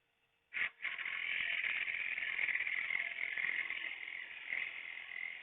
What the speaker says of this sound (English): Forgot to turn the lathe down a little bit.